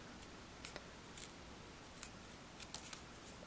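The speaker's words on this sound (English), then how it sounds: "We're going to cut the ends off." Scissors snip the ends off woven ribbon on a chevron headband, making several faint, crisp clicks spread unevenly across the moment, close and quiet with no talking.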